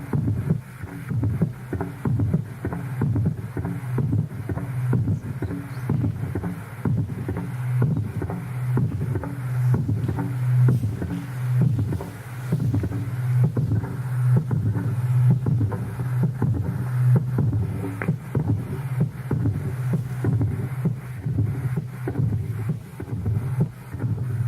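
A large motor engine rumbles steadily with a low, pulsing throb, heard from a borehole site about 13.5 to 18 metres deep, continuous and fairly loud with a rhythmic beat throughout and wind noise over the microphone.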